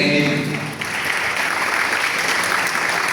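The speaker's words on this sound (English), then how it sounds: "please help me with claps to feel the energy." An audience claps together at a keynote address event, a dense, sustained burst of applause that stays loud and even from start to finish.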